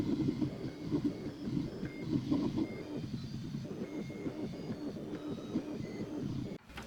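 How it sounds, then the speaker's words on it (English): An xTool M1 Ultra laser machine runs a hot foil pen job, sped up three times, giving a continuous mechanical whir with shuffling, stepping motor movements at moderate level until an abrupt stop. "let's go to process and start the machine"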